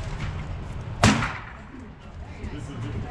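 A single sharp pistol shot from a Phoenix Redback handgun at an outdoor range roughly 7–10 yards from the target, loud and close, with a brief echo tail over steady background noise.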